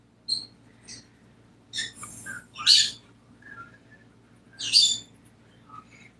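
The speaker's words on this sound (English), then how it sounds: "I hope you don't overly mind hearing the birds in the background." Indoor pet birds give a few sparse, high chirps and tweets, some sharp and loud, others faint, separated by quiet gaps in a calm room.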